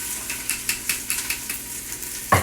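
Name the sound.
onions frying in melted coconut oil in a pot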